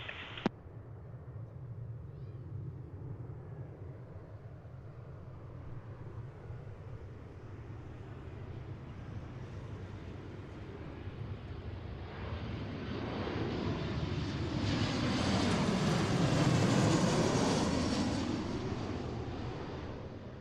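Airliners, including widebodies such as Alaska 787s, landing on an afternoon at Seattle airport: a jet's roar swells steadily from a distant rumble to a loud, close pass near the end of the clip, with no talk.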